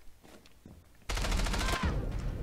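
Gunshots in the tactical shooter Rainbow Six Siege. Faint distant pops are followed by a sudden loud burst of rapid automatic fire lasting about a second and a half.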